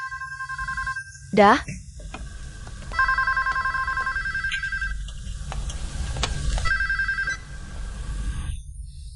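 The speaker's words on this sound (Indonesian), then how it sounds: "Mama, telepon." A telephone rings in two harmonic bursts, one of about two seconds and a shorter one later, over steady low background noise in a home where someone is cooking, with voices speaking before and between the rings.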